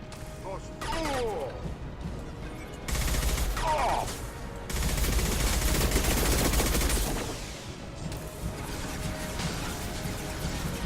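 Gunfire in Mass Effect 2 comes in sustained loud bursts mixed with crashes and impacts, rising and falling over the clip while voices speak amid the combat.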